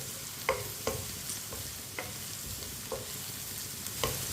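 Okra (bhindi) fries in a pan with a constant sizzle, while a spoon stirs it in regular scraping strokes about every half second.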